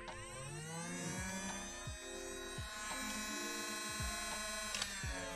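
A motorized automatic Nerf Fortnite blaster whirs steadily, its electric motor buzzing with repeated rising and falling pulses as it spins up and down.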